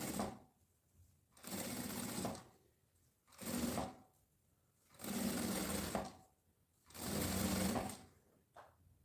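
A domestic sewing machine runs in four bursts of rapid stitching, each about a second long and separated by short quiet pauses, heard close up with no talking.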